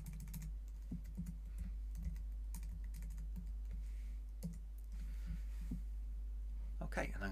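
Typing on a computer keyboard, a steady run of quiet, close clicks with a faint low hum underneath and no voices.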